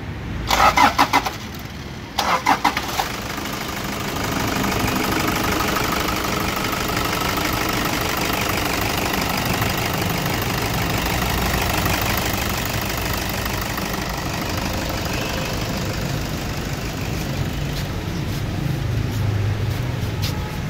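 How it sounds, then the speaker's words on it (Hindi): A 2012 Toyota Vigo Champ pickup with a 2.5 L diesel engine cranks over in a few short bursts and catches. It then settles into a steady, rough, clattering idle that carries on loud and close for the rest of the clip. "मैं आपको इसका इंजन स्टार्ट करके भी दिखा देता हूँ।"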